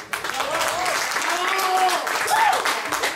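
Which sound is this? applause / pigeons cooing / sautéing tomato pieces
applause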